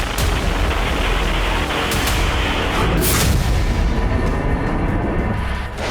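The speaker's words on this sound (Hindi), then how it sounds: "देखिए कैसे जोरदार आवाज के साथ उस इलाके में तबाही मच गई।" A missile striking and flattening a building in a war zone in Ukraine, a loud, dense roar of blast and rumbling debris that holds steady for several seconds before easing off at the end.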